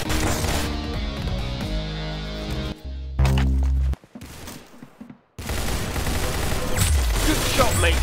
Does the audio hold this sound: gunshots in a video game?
yes